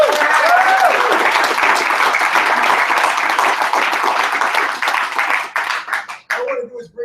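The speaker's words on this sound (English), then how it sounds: "round of applause" Loud, sustained audience applause at a live Easy1Up NWC Multiplex Systems event in New York, dense clapping for several seconds before thinning out and fading near the end.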